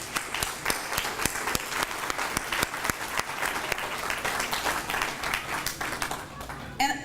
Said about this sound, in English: could we give a round of applause to the people on this side of the room